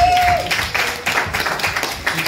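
Audience applause at a punk venue event, a dense patter of clapping hands in uneven bursts, starting after a brief tone and continuing throughout.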